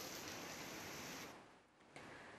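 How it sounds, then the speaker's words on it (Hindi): Heavy rain falls steadily during a storm in Islamabad and Rawalpindi, a dense hiss that dips briefly near the end before returning at full strength. "ये बारिश का सिलसिला वक्फे से जारी रहेगा"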